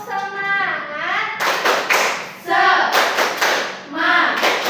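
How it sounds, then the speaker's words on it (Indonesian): A class of children claps out a rhythmic cheer in sharp bursts of hand claps, with a teacher and children speaking and chanting between them. "kita tepuk semangat dulu ya"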